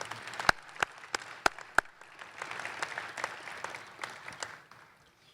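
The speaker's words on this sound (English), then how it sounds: "Please join me in giving all of them a big round of applause." An audience at a university Hall of Fame ceremony breaks into applause: a few sharp, separate claps first, then a fuller wash of clapping that slowly fades out.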